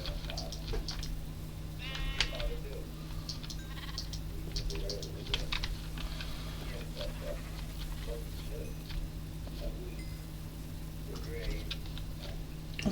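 Sheep in the video game Minecraft bleat in short, scattered calls over a steady electronic hum, with faint clicking of keys in the background.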